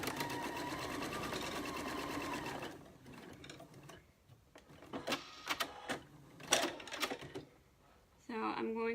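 A sewing machine stitches a tiny seam on a patchwork pin cushion in a quick burst, then someone talks over clicks and handling noises before the machine briefly starts again.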